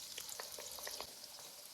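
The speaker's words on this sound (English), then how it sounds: "Fry all squares until evenly cooked on both sides." Squares of beignet dough fry in hot oil at 350°F, a steady bright sizzle with faint crackles and soft stirring taps, continuous and fairly quiet with no voices.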